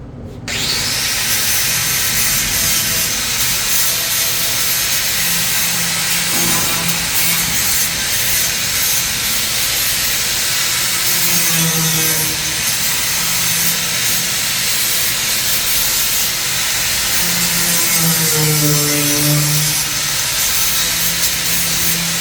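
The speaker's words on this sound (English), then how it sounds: "I'm going to take the flapper disc here and I'm going to clean this up" Angle grinder with a flap disc cleaning up a round metal bar on a 1955 Pontiac rear bumper, a loud continuous close-up whine and grinding rasp with pitch dipping as pressure changes.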